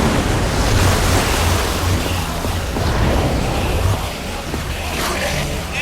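In the Minecraft: Story Mode video game, water gushes loudly from a fire suppression system as a continuous broad rushing roar, slightly easing near the end.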